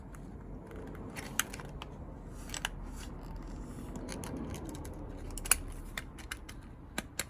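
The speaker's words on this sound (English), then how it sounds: "Okay, time for some more trimming." A plastic rear brake cooling duct for a Porsche 997 Turbo kit on a Boxster or Cayman being trimmed, with sharp snipping cuts spaced irregularly over a faint background, close and fairly quiet.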